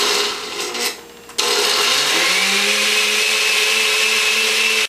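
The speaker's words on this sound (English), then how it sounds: "Notice how the blades take it back and forth to get it going, and then we kick her into high gear." An Oster Fusion blender starts with a rough, stuttering churn, then kicks into high gear with a loud, steady whine that holds to the end. No one talks.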